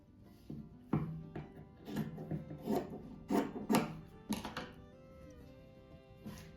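Scissors cut fabric for a rabbit-shaped rug in a series of close, crisp snips and rasps at an uneven rhythm, with soft rustling of the cloth between cuts.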